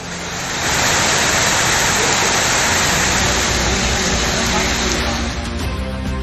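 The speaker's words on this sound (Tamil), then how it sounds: "கொள்ளிடம், வைத்தீஸ்வரன் கோவில், எடமணல் உள்ளிட்ட பகுதிகளிலும் மழை பெய்தது" Heavy rain pours down in a loud, dense, continuous roar that swells up in the first second and then holds steady.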